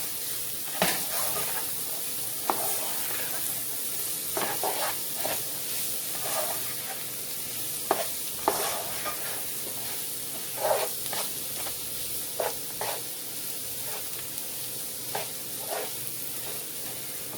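Beef stroganoff with mushrooms stirred in a pan, a steady close sizzle broken by repeated scraping and clinking strokes of a utensil at irregular intervals.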